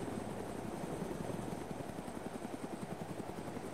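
A video-game helicopter flies steadily with a constant rapid rotor thump and engine roar, sounding close and continuous with no talk over it.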